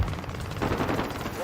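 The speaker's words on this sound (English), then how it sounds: "Friendly sentry gun online" A friendly sentry gun in Call of Duty fires in a fast, continuous automatic burst, layered with other dense battlefield game noise for the whole moment.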